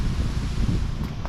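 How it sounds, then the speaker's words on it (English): Wind blows outdoors at an off-grid tiny house cabin during a solar install, making a steady low buffeting rumble across the microphone with small gust swells and no talking. "it is getting windy"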